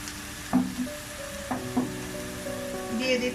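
Ginger-garlic paste frying in a pan for a chicken curry with new potatoes, a close soft sizzle broken by a few distinct stirring scrapes, with a faint tonal hum underneath.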